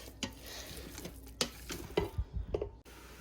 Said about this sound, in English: Brown up your ground beef.